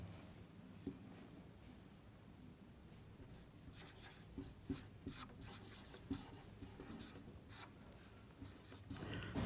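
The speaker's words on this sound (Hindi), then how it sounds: "मैं एक वाक्य लिखता हूं।" A teacher writes a sentence, with soft, continuous scratching and rubbing strokes close by, faint at first and growing busier toward the end.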